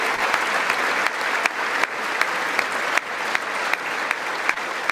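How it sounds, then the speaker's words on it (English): Applause fills the chamber at a joint session of Congress, dense steady clapping from many hands, loud and sustained throughout with a few sharper individual claps standing out. "Democrats clapping."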